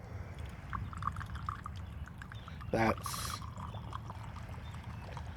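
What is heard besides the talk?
pouring Old Monk rum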